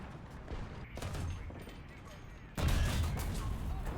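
Tank cannon fire with HEAT shells in a video game, booming blasts with a louder, sharper burst partway through, over continuous game rumble.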